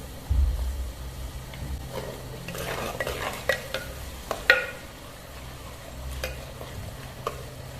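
Ginger and garlic paste is fried and stirred with browned onions in a pan for Punjabi kadhi pakora, giving a soft steady sizzle with scraping spoon stirs and occasional utensil clinks.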